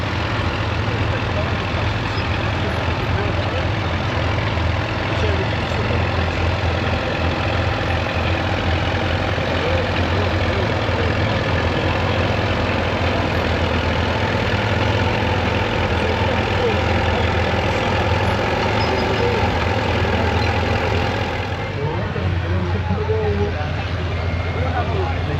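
Derbyshire diggers' engines idling at Cromford Steam Rally in a dusty field, a steady loud low rumble throughout with people talking over it.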